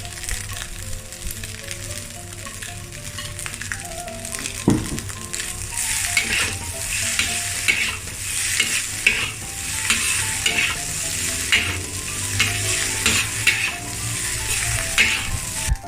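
Long beans and kangkung stalks stir-fried for Indonesian nasi goreng kampung: a loud, close, continuous sizzle with rhythmic scraping and tossing in the pan, no voices.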